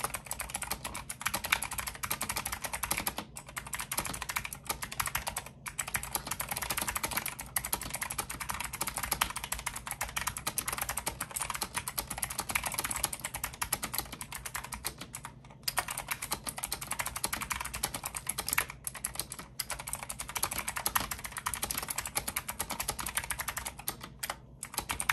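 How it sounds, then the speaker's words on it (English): Steady typing on a Venatos Northern Glow TKL keyboard fitted with orange optical switches, a close, continuous run of keystroke clicks with brief pauses and no voices. "Now here's a typing test of the orange optical switches."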